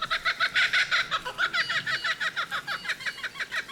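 Birdsong in bushland, with a golden whistler calling far off, a white-throated treecreeper calling close by and a grey shrike-thrush calling in the background; a steady run of rapid, bright repeated notes fills the clip.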